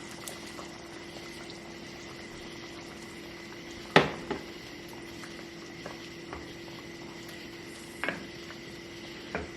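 Coconut milk and chicken curry simmering in a cast iron pan, a quiet steady bubbling hiss with occasional sharper pops and clinks, close and low in level.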